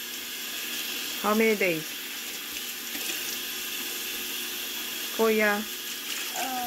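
Dishes are washed at a kitchen sink under running water, a steady hiss of the tap throughout, while a child and an adult speak briefly over it.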